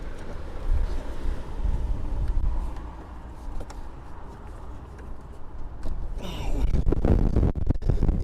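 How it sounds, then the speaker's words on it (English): Strong wind buffeting the microphone outdoors beside a VW Golf Mk5, a steady low roar that swells louder toward the end with gusty rumbles. "You guys have no idea how windy it really is today."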